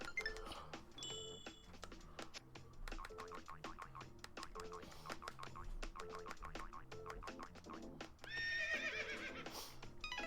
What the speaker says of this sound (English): And there's a horse sound.